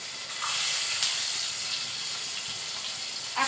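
Crushed garlic sizzles as it hits a hot pan with oil and chilli, a steady near hiss and crackle throughout with no talking.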